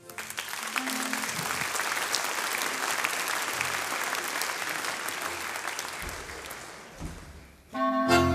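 Audience applause at a Swiss folk music Stubete for a band, a steady sustained wash of clapping from a crowd that fades near the end before a louder burst of music or voices takes over.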